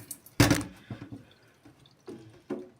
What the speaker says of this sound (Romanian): Hai să golesc mai din apă.